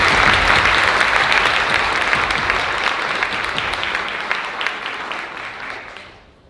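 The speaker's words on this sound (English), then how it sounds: "Please give these wonderful students and teachers another round of applause." Sustained audience applause honoring students and teachers at a high school academies symposium, steady and dense at first, then gradually thinning and fading out to silence near the end.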